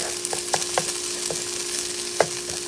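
Food frying in an already very hot pan for mango curried chickpeas and tofu, a soft steady sizzle with scattered spitting pops and a louder crackle near the end, over a low hum.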